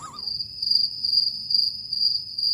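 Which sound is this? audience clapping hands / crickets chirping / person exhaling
crickets chirping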